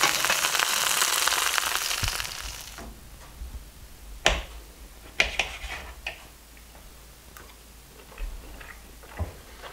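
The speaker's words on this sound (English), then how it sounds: "this nice slab of belly meat that we're browning up here in the frying pan" Quiet clicks and crackles over a soft background hiss, with a few sharper pops; a gentle low sizzle of a slab of beaver belly meat browning in a frying pan, no voices.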